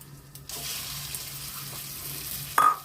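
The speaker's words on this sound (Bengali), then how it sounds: "এই আলুটাকে আমি করে নেবো, ভেজে নেবো।" Boiled, mashed potato frying in a little oil with asafoetida, a steady soft sizzle that starts after half a second and holds evenly, with a brief louder scrape or clatter near the end.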